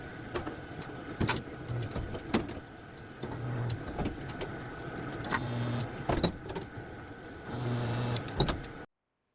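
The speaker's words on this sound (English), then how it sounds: "I've got a grinder with a wire rope, wire wheel on it." An angle grinder fitted with a wire wheel strips paint down to bare metal on a classic truck floor patch panel, whining steadily and loudly up close, swelling and dipping in pitch before cutting off abruptly.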